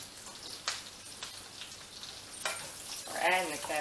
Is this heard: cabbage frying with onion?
yes